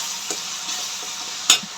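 Tomatoes sautéing in a pan for a stingray fish curry give a steady close sizzle, with a few soft stirring clicks and one sharper scrape of a utensil near the end.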